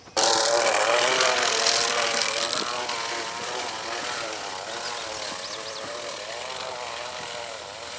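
A hand-cranked seed spreader throws seed in a continuous whirring rattle, close by and fairly loud, with a dense patter of seed that eases slightly after the start.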